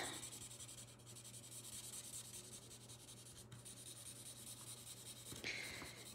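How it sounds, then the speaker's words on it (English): A chisel-nib marker colouring in a drawing, producing a continuous soft rubbing and scratching on paper with back-and-forth strokes, close and quiet over a faint steady hum, with a brief scrape near the end. "So I use my chisel nib to color in almost everything"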